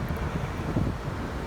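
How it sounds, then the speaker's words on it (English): Strong wind buffets an outdoor microphone in a steady low rumble that stays close and fairly loud throughout, with no talk. "This is windy, I know, sorry about that."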